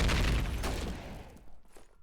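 A grenade blast in a competitive online shooter match, a loud booming burst up front that rumbles and fades over about two seconds with faint trailing noise.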